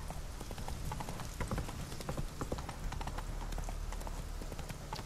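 Roach, the horse in The Witcher 3: Wild Hunt, trots along with a steady, rhythmic clip-clop of hooves, close and continuous over a low ambient rumble.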